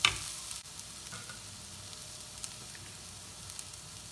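Potato and tender jackfruit being stirred and fried in a pan: a quiet, steady sizzle with a sharp scrape at the start and a few faint clicks of stirring.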